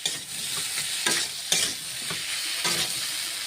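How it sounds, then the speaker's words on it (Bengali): Potatoes sizzle in a pan with ginger-garlic paste, onion, chilli and tomato, stirred at a steady pace, with several louder scraping stirs. No one speaks. "পেস্ট, পেঁয়াজ লঙ্কা টমেটো দিয়ে আলুটাকে ভালো করে কষাচ্ছি"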